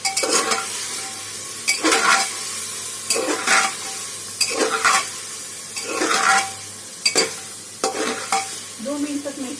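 Chicken pieces with dry spices like turmeric, red chilli and garam masala sizzle in oil in a pressure cooker, with repeated scraping stirs of a utensil against the pot every second or so, close up.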